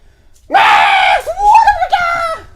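A man screams a dog's name in one long, loud, strained yell, then follows with a second wavering shout after a brief break, all of it close and alone.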